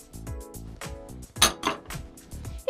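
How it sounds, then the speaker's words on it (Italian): A whisk beats butter, sugar and egg in a bowl for gluten-free jam biscuits, giving quick rhythmic scraping clinks of metal against the bowl, close and fairly loud. "Stiamo mescolando burro e zucchero,"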